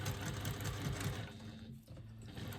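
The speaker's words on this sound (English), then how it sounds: "when you go to start stitching, try and drop your needle into that same needle hole" Sewing machine stitching a small fabric pouch, a steady rapid mechanical whir with rhythmic needle pulses close by, running continuously for about a second before slowing and quieting.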